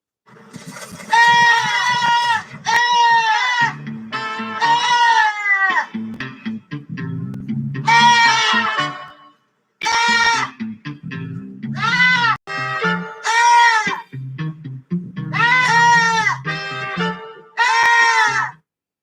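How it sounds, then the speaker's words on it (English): Several goats bleating loudly and close, a run of long wavering cries broken by short pauses, at times overlapping one another, with no talk. "My goats."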